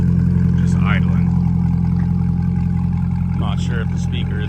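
A brand-new 2024 Corvette E-Ray 3LZ fitted with an AWE track exhaust idles with a deep, steady rumble that stays loud and constant throughout, while someone talks over it.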